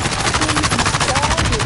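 Rapid automatic gunfire in a first-person shooter match, bursts rattling steadily and loudly through the whole stretch, with a voice talking over it.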